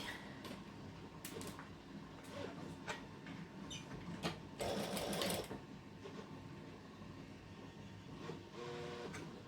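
A sewing machine stitches a seam on a Burda 6840 shirt, running steadily and fairly loudly close by, with a brief busier burst midway and no talking.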